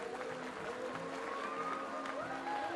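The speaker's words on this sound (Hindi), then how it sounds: "मैं चाहूँगा कि आप अपने लिए एक जोरदार तालियां बजाइए." A crowd at a stage event applauds continuously, a soft, distant-sounding wash of clapping with faint crowd murmur and a few whistle-like tones over it.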